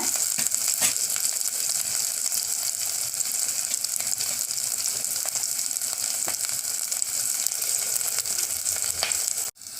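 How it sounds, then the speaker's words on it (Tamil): Onions and green chillies sauté in hot oil in a pan for paruppu rasam, a loud, continuous close-up sizzle and crackle with a few sharper pops, no voices. "வெங்காயம் பச்சை மிளகாய் பொரிஞ்சிருச்சுங்க."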